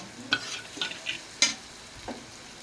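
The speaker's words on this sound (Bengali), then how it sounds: "পেঁয়াজটা লাল লাল ভাজা হয়ে গেছে" Onions frying in oil with a few distinct spatula scrapes and stirs over a soft background sizzle, close and fairly quiet, with no talking.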